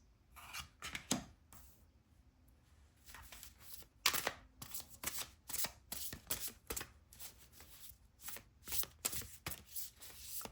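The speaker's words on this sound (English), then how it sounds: "let's get some tarot cards and see" Tarot cards are shuffled by hand, giving close, crisp riffling and slapping bursts in an irregular rhythm throughout, with no talking.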